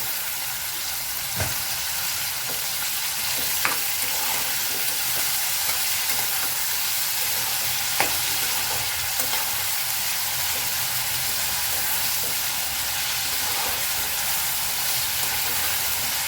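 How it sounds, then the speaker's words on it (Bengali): Potato pieces and bottle gourd peel fry in a pan with a continuous close sizzle, broken by a few sharp clicks and faint scrapes, and no talking. "আলুটা ভাজা কিছুটা হয়ে আসছে। এখন দিয়ে দেব খোসাটা, লাউয়ের খোসা।"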